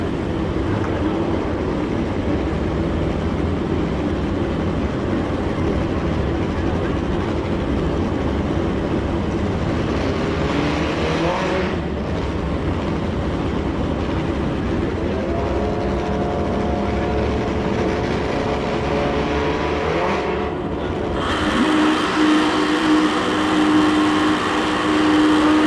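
Suzuki GS-powered drag racing motorcycle roaring down the strip at a bracket drag race, a loud continuous engine blare with shifting pitch that drops off near the end, under steady crowd and track ambience.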